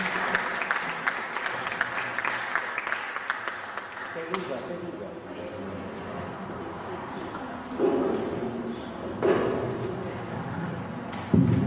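An audience at a gathering breaks into applause that fades into scattered clapping, with thumps and voices heard over the tail.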